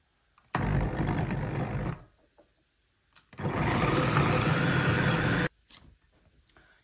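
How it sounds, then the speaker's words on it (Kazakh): A kitchen blender grinds soaked stale bread in two bursts, a loud steady whirring motor running about a second and a half, pausing, then running again for about two seconds before stopping. "Жібітілген нанды блендерге салып, енді оны жақсылап араластырып майдалаймыз."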